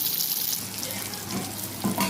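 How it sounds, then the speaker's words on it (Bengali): Pointed gourd pieces fry in hot oil with salt and turmeric, giving a steady, close, dense sizzle throughout with a brief louder burst near the end. "পটলটাও সামান্য নুন আর হলুদ দিয়ে ভাজা হচ্ছে"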